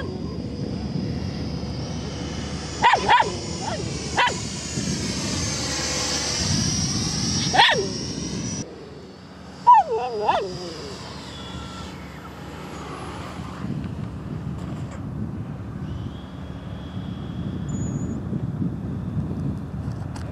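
A Freewing J-10 90mm RC jet whines past on a gear pass, its turbine-like tone rising and falling as it sweeps by at a distance, with brief bumps of wind and handling noise.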